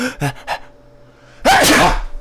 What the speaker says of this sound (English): Hold on, I'm gonna sneeze, guys.